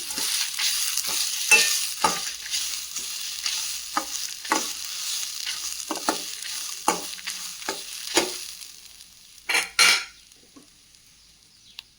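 Grated coconut dry-roasts in a kadai, the spatula scraping and stirring in repeated rhythmic strokes over a light sizzle, ending with a couple of louder knocks against the pan.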